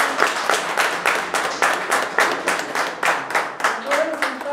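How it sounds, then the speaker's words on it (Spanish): Wedding guests clapping in unison after a church blessing, a rhythmic beat of claps roughly twice per second with some voices underneath. "Les damos un fuerte aplauso,"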